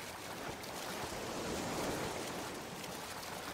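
Steady water wash and sloshing surrounds a swimming character in the battle-royale game PUBG, a broad continuous rush that stays loud and even throughout with no voices.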